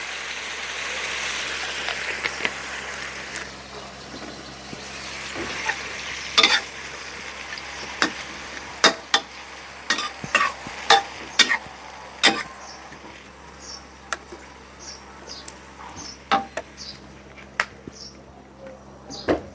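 Minced pork stir-fried in a pan starts as a loud, dense sizzle that gradually thins, giving way to sharp intermittent clicks and scrapes of a utensil against the pan.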